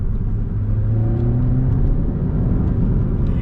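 Subaru WRX with a 6-speed manual, dropped into second gear, engine droning at steady revs with a low rumbling hum, close and continuous, no talking.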